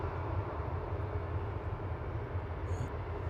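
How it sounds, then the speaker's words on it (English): An ATR 72-600 turboprop airliner arriving from Guernsey about to touch down at Manchester Airport, a steady broad engine roar heard from a distance, continuous and unbroken. "Aureli from Guernsey about to touch down in the background, ATR 72600 Gloria"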